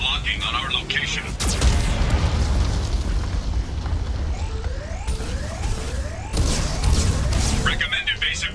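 Repeated heavy cannon blasts from a Geth cannon in the video game Mass Effect 2, with booming explosions at the start and again later amid rumbling sci-fi combat noise and electronic warning tones.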